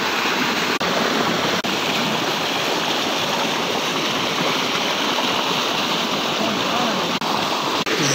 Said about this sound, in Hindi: सामने आप देख सकते हैं बिल्कुल फ्रेश ट्यूबवेल से पानी निकल रहा है